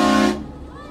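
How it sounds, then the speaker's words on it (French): A car horn blares in a single sustained, loud honk that cuts off abruptly, leaving quiet engine and road rumble on an off-road track between Tolar Grande and San Antonio de los Cobres. "ils aiment tous le klaxon"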